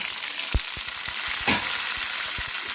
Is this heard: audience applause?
no